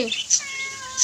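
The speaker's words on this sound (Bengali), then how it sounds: "ম্যাও ম্যাও ম্যাও ম্যাও" A cat meows a few times up close, short high cries in quick succession.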